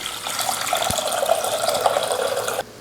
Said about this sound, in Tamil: இப்போ நம்ம ஜவ்வரிசி வறுத்து வச்சுருக்கோம் அந்த பாத்திரத்தில். இதில் நம்ம தண்ணி ஊற்றிக்கலாம்.